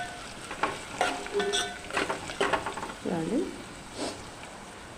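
Stirring lentils with turmeric in a pan, a few irregular scraping and clinking strokes over a faint sizzle, close by, with a brief bit of talking.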